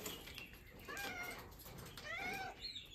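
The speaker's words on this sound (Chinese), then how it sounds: "小咪的叫声好大呀，他已经迫不及待要出来了。" A cat meows repeatedly from close by, two or three drawn-out, rising calls spaced across a few seconds, fairly faint against a quiet background.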